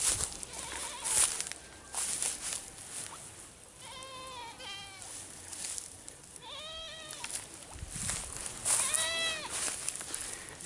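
A goat in Jamaica bleats several times in wavering, harmonic calls spread across the clip, close by over steady outdoor background noise.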